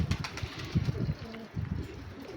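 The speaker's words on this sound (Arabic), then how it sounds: "شوفوا هذا كمنقر يصيح لامه وابوه" A pigeon squab of the red-eyed Kamangar breed calls to its parents on a rooftop loft, giving soft, low, throaty cooing pulses in an irregular run, close and fairly quiet.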